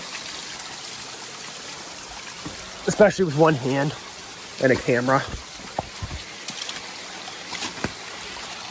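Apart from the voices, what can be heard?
small waterfall flowing over rocks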